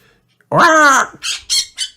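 A cartoon parrot lets out a loud, harsh squawk lasting about half a second, followed by a few shorter raspy squawks.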